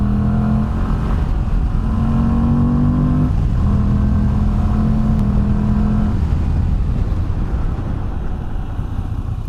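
A Moto Guzzi V85 TT motorcycle engine drones loud and close during a braking test, its tone stepping down through a couple of gear changes as the bike slows, with steady road and wind noise underneath.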